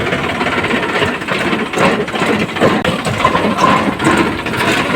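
A tractor engine runs steadily while it is driven home along a farm track, a loud, continuous rough mechanical drone with no talk over it.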